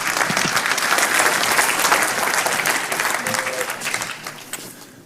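Conference audience applauding a keynote speaker, a full, dense round of clapping that fades steadily toward the end, with a brief voice audible partway through.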